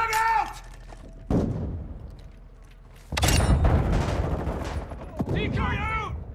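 A frag grenade goes off amid bursts of gunfire in Call of Duty: Modern Warfare II, with loud booms and rapid shots, and in-game voice callouts heard between them.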